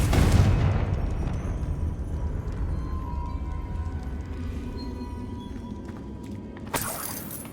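A loud magical fire-blast explosion from the Confringo spell in the Hogwarts Legacy video game, booming at the start and rumbling away, with a second sharp burst near the end.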